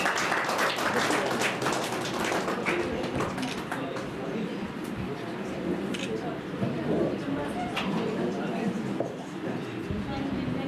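Loud, dense applause fills a closing ceremony of a district chess association in Chamba, a sustained wash of clapping for a young player's parents, with voices mixed in.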